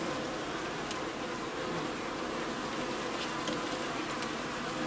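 Honeybees buzzing at an opened hive during a beekeeping inspection, a dense steady hum filling the whole stretch with no breaks, close and fairly loud.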